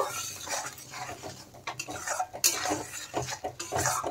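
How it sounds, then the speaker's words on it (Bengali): A spoon scrapes and clinks against a metal pan while spice masala of salt, turmeric and chilli powder is stirred and fried in mustard oil for a rohu fish curry, irregular close knocks and scrapes with no talking. "এখন আমি মশলাটা মিক্স করে ভালো করে কষিয়ে নেব।"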